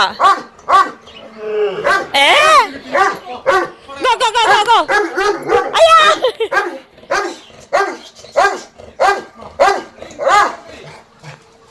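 A dog barks and yips in a series of sharp, loud barks close by, mixed with excited whimpering, while people talk and call out around it outdoors.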